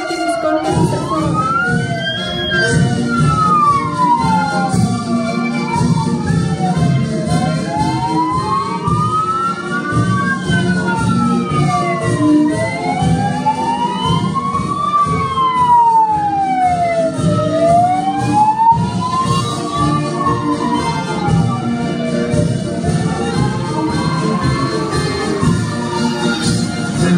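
Greek fire brigade vehicles roll past in a national day parade, their sirens wailing loudly and steadily in rising and falling sweeps over a constant engine rumble, with several sirens overlapping throughout.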